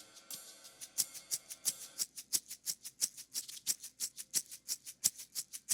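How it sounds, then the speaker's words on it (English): A pair of shakers panned hard left and right in a song mix, playing a steady, brisk run of crisp rhythmic shakes that stay bright and alone, with a denser burst of shaking at the very start. "our shakers, which are panned one hard left and one hard right, sound like this"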